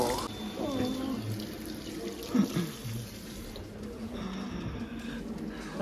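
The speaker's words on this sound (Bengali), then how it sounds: "তার আগে একটু হাতটা ধুয়ে নিই" Tap water runs steadily into a sink as hands are washed in a bathroom in England, moderately close, with a brief splashy burst partway through over a low background hum.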